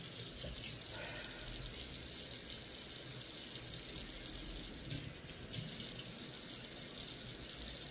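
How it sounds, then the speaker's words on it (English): Tap water runs steadily from a faucet over a handful of spring mix salad greens being rinsed, a continuous close splashing rush that briefly dips partway through. "So I'm just rinsing a handful of my spring mix."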